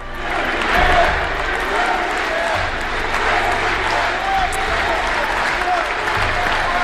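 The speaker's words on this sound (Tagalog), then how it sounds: "Standing ovation ulit ang mga nasa batasang pambansa nang ito'y binigkas ng Pangulo." Members of the Philippine legislature give a standing ovation, a sustained roar of many hands clapping in a large hall with crowd murmur and low rumble underneath, steady and loud throughout.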